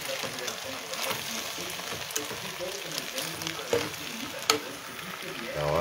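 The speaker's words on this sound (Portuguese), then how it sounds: "Vamos mexer." Macaroni being stirred through plenty of sauce in a hot pan, with a steady close sizzle and frying crackle broken by a few sharp scrapes and clinks of the spoon against the pan.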